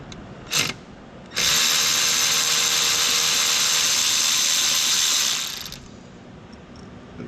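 A ratchet or power driver spins out a throttle body screw on a Ford Focus, one short burst and then a loud, steady whirring run of a few seconds that fades out, close up with no talk.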